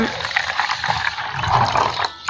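Water poured into a container holding tamarind seeds, a steady splashing trickle lasting a couple of seconds, close and fairly loud.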